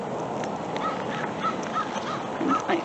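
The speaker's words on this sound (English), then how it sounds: "the crow got it" Several short crow caws ring out at moderate distance over a steady outdoor background hiss, spaced irregularly across the stretch.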